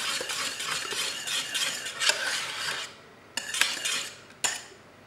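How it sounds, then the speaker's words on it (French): A spoon or whisk stirs ganache in a bowl, producing close, continuous wet scraping and clinking strokes that pause briefly near the end before a few last scrapes and taps, with no talking. "Et on mélange bien."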